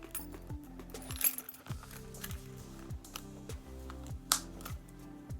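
Three regular keys and a key fob jangle inside a Louis Vuitton 4 key holder, giving a series of light metallic clinks and rattles in short bursts, close and fairly quiet.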